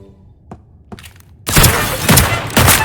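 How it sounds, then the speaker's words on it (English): A rapid burst of loud, close gunfire in the video game Deceive Inc. follows a few quieter clicks and thuds, with several shots blending into a dense fusillade. "Again, 5 shots, quite consistent"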